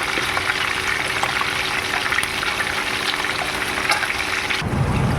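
Pieces of fermented fish (pla som) sizzling in hot oil in a pan, a loud, dense, continuous crackling fry heard up close with no talk.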